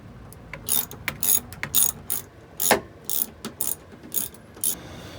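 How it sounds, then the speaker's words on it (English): A ratchet loosens a hose clamp on a Hatteras yacht's exhaust hose in short bursts of rapid clicking, close and clear, with brief pauses between strokes. "I'm going to take that clamp off"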